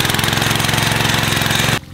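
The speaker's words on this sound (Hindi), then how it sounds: "अब हम चलाएंगे ये ट्रैक्टर" A small hill-farm tractor engine runs close and loud with a steady, rapid chugging knock, then cuts out abruptly near the end, leaving only faint background.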